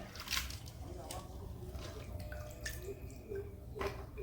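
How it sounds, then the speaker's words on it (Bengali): Ivy gourd (telakucha) stems are squeezed and rinsed by hand in a bowl of water, producing soft, close sloshing, squishing and dripping sounds, with a faint voice now and then underneath. "কচলিয়ে কচলিয়ে তেলাকুচুর ডোকাগুলো ধুয়ে নেবো"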